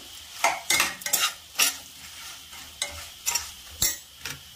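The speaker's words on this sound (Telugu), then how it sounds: "కలబెట్టేసుకుందాం దీన్ని." A spoon scrapes through spicy taro root fry in a pan, with several sharp stirring strokes over a faint sizzle and no talking.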